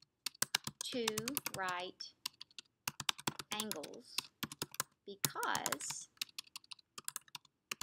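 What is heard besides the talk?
typing on a computer keyboard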